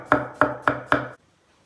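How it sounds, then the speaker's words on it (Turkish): Four firm, evenly spaced knife strokes chop cauliflower on a board, each a crisp close thud, then silence. "E, ben bıçakla doğramayı öneririm."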